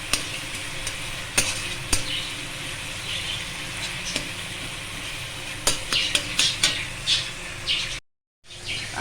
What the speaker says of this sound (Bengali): এখানে টমেটো আদা এগুলো সব ভাজতে বসিয়ে দিয়েছি, এগুলো একটু ভেজে নিয়ে কপি আলুটা মেশাবো